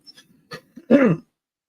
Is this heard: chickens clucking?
no